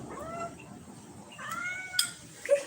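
A cat meows a few times, short and fairly faint, over a quiet background with no talking.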